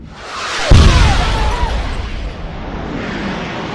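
A 2,600-pound H4 bomb strikes its target in a single massive explosion: one sudden sharp blast followed by a long, loud rumbling roar that slowly fades, with no voices.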